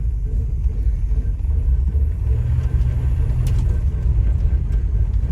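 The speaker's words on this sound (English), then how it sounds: "Besides the rubbing brakes," A 49-year-old Ford Thunderbird with big-block upgrades and rubbing brakes drives along, giving a steady, close low rumble of engine and road noise that runs unbroken without any talk.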